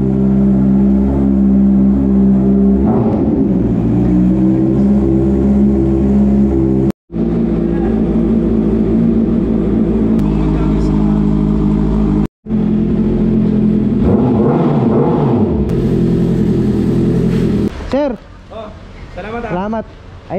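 A big bike engine cold starts and revs hard, running loud and steady with repeated throttle blips and rising-falling revs, cut by two brief dropouts, with shouting voices near the end.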